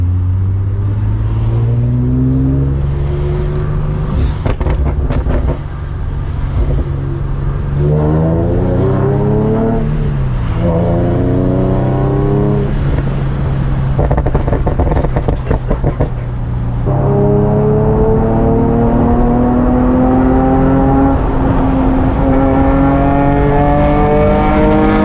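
Infiniti G37 engine revving hard to its 8500 rpm redline during full-throttle pulls from inside the car in traffic, loud rising engine tones climbing repeatedly through the gears with brief dips at each shift.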